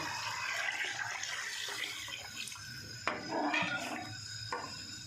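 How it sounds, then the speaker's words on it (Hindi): Water pours into a metal cooking pot for chickpea pulao, splashing and gurgling softly, with faint clinks of cookware nearby. "1 लीटर पानी इसमें शामिल कर देंगे"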